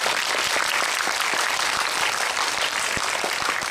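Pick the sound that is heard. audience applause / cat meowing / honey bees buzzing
audience applause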